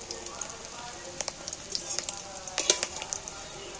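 Egg fritters frying in oil until deep red, a close, crackling sizzle with sharp pops and spits scattered throughout, louder bursts near the end, and a faint voice underneath.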